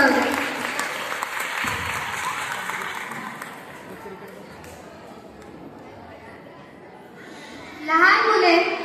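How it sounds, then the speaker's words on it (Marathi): An audience at a nursery school gathering claps for the little child performers. The applause is dense and loud at first, fades into murmur and background talk, and then a short burst of voices and clapping rises near the end. "या छोट्या कलाकारांसाठी जोरदार टाळ्या होऊन जाऊ द्या"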